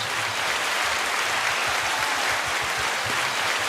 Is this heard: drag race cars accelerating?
no